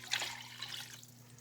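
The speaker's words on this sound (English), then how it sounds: "And then I'm also gonna add 1 cup of water to this." Water poured from a cup into a simmering pasta sauce of tomatoes in a pan, a brief faint splash and trickle lasting about a second, alone over a low steady kitchen hum.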